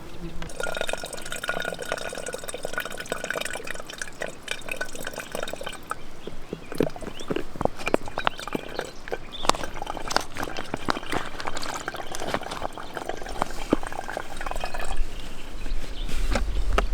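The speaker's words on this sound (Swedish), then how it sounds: "Sen är det bara att fylla flaskan." Filtered water trickling from a squeeze filter bag into a bottle outdoors by a lake, a steady close pour with drips and a gradually rising fill tone, with a voice speaking over it.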